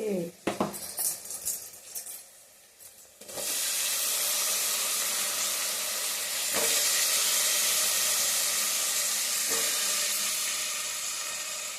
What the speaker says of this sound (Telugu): ఇప్పుడు ఆలుగడ్డలు వేస్తున్నాను